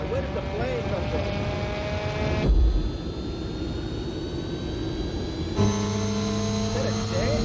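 A jet aircraft engine roars steadily nearby for several seconds, a dense whooshing drone with whining tones that shift as it moves, while people talk over it.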